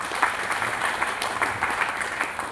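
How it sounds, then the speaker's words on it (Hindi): An audience at a seminar breaks into sustained applause, a dense, fairly loud wash of many hands clapping at once with a few sharper claps standing out and no voices on top. "थैंक यू सर के लिए भी एक बार जोरदार ताली बजाए।"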